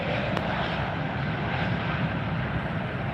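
A Spirit Airlines airliner comes in overhead, a steady broad jet roar at moderate distance that holds constant through the brief stretch, with no voices.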